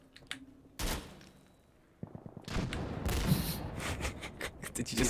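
Gunfire rattles in the video game Insurgency Sandstorm, with a sharp report early on followed by a dense, sustained barrage of shots and rumbling blasts.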